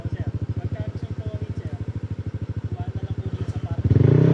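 An NMAX V2 scooter engine idles with a steady, rapid putter close by, then revs up louder near the end; people talk nearby.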